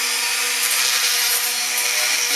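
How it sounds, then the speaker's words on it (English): A flat file rasps steadily over gouges in the metal body of a Weber carburetor from a Fiat 850, a continuous close harsh scraping without pauses or talk. "I wish I might even just use a flat file."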